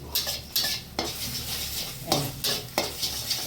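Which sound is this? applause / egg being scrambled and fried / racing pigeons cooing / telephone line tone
egg being scrambled and fried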